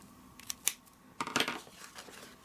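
Scissors cutting away the flap of a paper treat box, a couple of sharp isolated snips followed by a quick cluster of crisp cutting and crinkling sounds, close up and fairly quiet.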